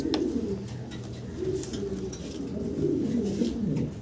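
Mundian pigeons, a pair among red checkers at a pigeon seller's loft, cooing: continuous, overlapping low rolling coos from several birds nearby, with faint chirps above.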